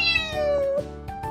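A Toy Bob, a tiny Russian-origin cat breed, gives a clear, close, drawn-out meow that falls in pitch, then trails into softer short mews, with no talking.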